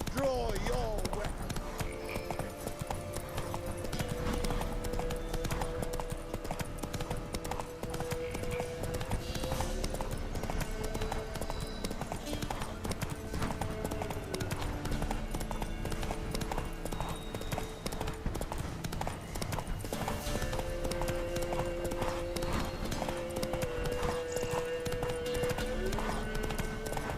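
Hooves of the horse Roach in The Witcher 3: Wild Hunt clip-clop in a steady galloping rhythm, close and continuous, with game music and occasional voices over them.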